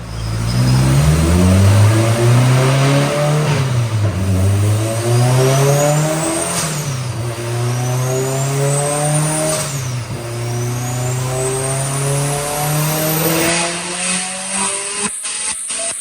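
A turbocharged Honda S2000 drift car revs hard on a dyno, its loud sustained engine note climbing and sagging in pitch through repeated swells, with a brief dip where boost control opens and closes, and no talking.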